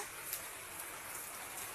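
Steady rain falling outdoors near a garden with climbing vines, a soft continuous hiss with a few faint drop ticks, even and unbroken throughout.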